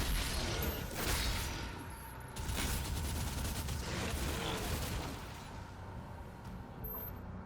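Chunky energy weapon firing in Doom: The Dark Ages, a rapid, dense stream of shots in repeated bursts at moderate loudness, easing off toward the end.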